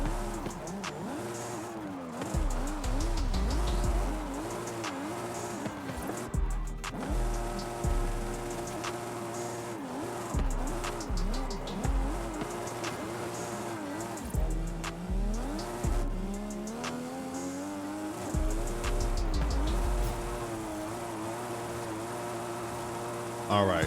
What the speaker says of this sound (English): we're gonna get these tires warm and we're gonna take it downhill.